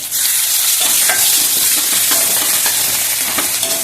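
Turmeric, green chili, ginger and curry leaves fry in hot oil with a loud, dense, continuous sizzle and crackle, close up, with faint stirring taps and no talking.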